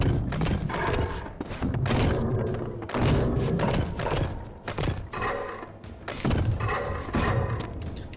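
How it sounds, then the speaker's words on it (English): The Soul Reaver blade striking rock in the game Legacy of Kain: Defiance, a series of heavy, loud thuds and impacts repeating amid dense, rumbling combat noise. "It's amazing the Soul Reaver doesn't go dull after hitting a rock with it."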